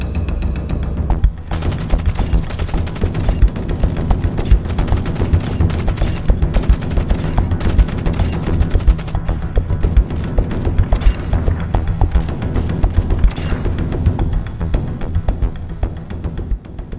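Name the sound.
Kastov 545 rifle gunfire in Call of Duty MWII video game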